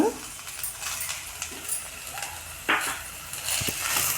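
Tomatoes cook in a pan for fenugreek dal and are stirred with a spoon, making soft scraping and clinking strokes over a faint background sizzle, with a brief sharp clank partway through.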